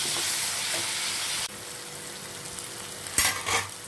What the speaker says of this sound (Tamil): வெங்காயம் தக்காளி நல்லா வதங்கி வருது